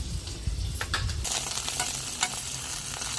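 Tomatoes sizzle in a little hot oil for an Andhra-style mutton paya curry, a loud steady frying hiss with a few scraping stirs near the start, close up and with no talking.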